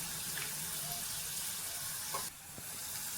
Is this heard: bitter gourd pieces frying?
yes